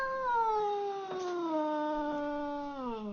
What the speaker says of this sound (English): cat grooming in the home